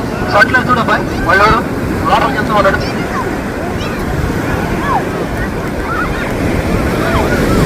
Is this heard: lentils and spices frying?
no